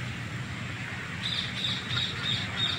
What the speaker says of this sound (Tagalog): Ayun, may ibon dito mga kapartner.